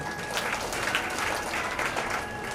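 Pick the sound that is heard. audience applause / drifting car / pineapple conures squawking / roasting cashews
audience applause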